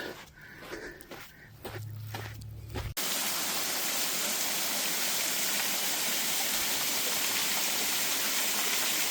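A waterfall on the West Coast Trail roars as a loud, steady broadband wash that begins abruptly and continues unbroken, after a short stretch of quieter outdoor sounds.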